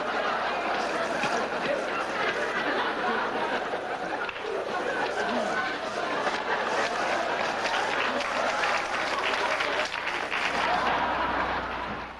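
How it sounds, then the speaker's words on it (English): Studio audience on the Tonight Show applauding steadily, a dense continuous wash of clapping with some crowd murmur mixed in, holding level for the whole stretch. "The audience is applauding a little bit"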